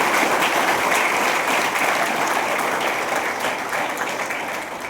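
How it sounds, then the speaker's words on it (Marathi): Audience at a student and parent gathering at a college in Wadala applauding for mothers, a dense, sustained wash of clapping from a large crowd that fills the room and tapers slightly toward the end. "आईसाठी एकदा टाळ्या."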